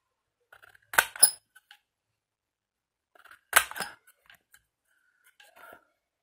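Scissors snip through paper for a scrapbooking mini album, two separate crisp cutting bursts a few seconds apart, each a quick pair of close snips in a quiet room.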